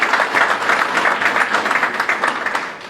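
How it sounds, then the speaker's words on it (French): An audience applauds the outgoing minister at a public ceremony, a dense, loud burst of clapping from many hands that holds steady and tapers slightly at the end. "applaudissons-la"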